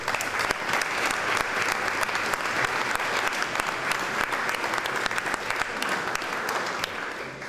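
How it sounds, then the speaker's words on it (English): Sustained applause from an audience at a lecture event honoring doctoral students, steady dense clapping filling the whole stretch at an even level without pause. "For them, I ask for a round of applause."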